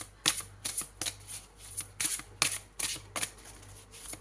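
Tarot cards being shuffled and handled by hand, a run of quick riffling bursts and soft slaps repeating roughly every half second, close and fairly quiet with no talk.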